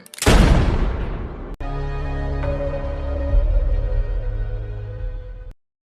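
A single loud gunshot in a revenge film scene, with Stem in full control of Gray's body shooting Cortez: a sharp blast decaying into echo, a brief cut, then a sustained low dramatic drone.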